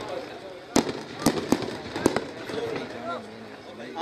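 Fireworks shells set off at an outdoor gathering, several sharp cracking bursts spaced irregularly over a few seconds, with people talking underneath.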